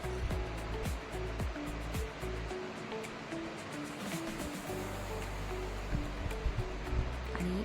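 Hot water drained off boiled potatoes and brinjal, a steady rushing pour that runs through the whole stretch with gurgling and splashing, fairly close and with no talk.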